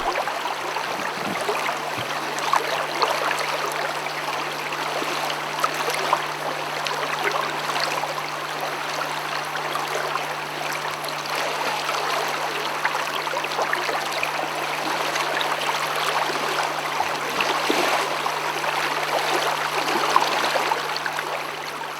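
A steady rushing of flowing water, constant and even throughout, with a faint low hum underneath.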